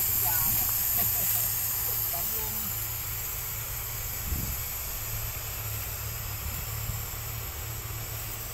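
Air compressor pump on a sugarcane harvester gives off a steady, fairly faint broadband hiss with a low background hum, while people talk nearby.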